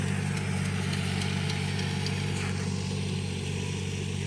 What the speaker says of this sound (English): the tractor doesn't have a hard time rotating the dirt and hay